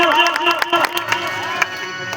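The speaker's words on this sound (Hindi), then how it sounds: "एक बार दोनों हाथों से जोरदार ताली बजा करके बाबा साहब का अभिनंदन करें" An audience claps loudly to honour Baba Saheb, scattered strong claps under a raised, amplified voice.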